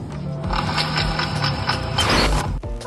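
Rhythmic mechanical creaking and grinding from the damaged, crushed torque drive bearing of a Yamaha NMAX 155 scooter, close and fairly loud, with repeating pulses and a brief harsher scrape near the end.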